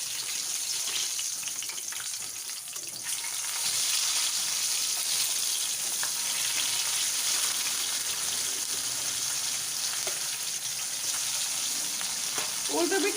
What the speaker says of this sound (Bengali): মাছের এক পিঠ ভাজা হয়ে গেছে, মাছগুলো এবার এক এক করে উল্টে দেব